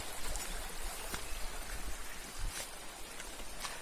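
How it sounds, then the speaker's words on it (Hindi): Stream water rushing and trickling downhill toward Demul waterfall near Chandiposh, Rajgangpur, Odisha, a faint, steady outdoor wash of flowing water with scattered splashy ticks. "देखिए अब ये पानी जो है उधर से उतर रहा है"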